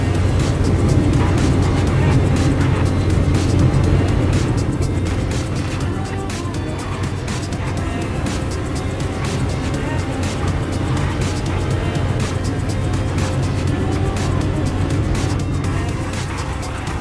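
Bugatti Bolide in the Roblox game Realistic Car Driving, its engine droning steadily at high speed with continuous road and wind roar, loud and sustained while someone talks over it.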